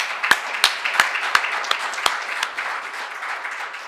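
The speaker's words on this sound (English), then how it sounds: "can we clap for these people who have done such a great job for us?" An audience at a forestry event claps for a steering committee, with a few sharp, distinct claps rising over softer scattered applause that thins out and fades after about two seconds.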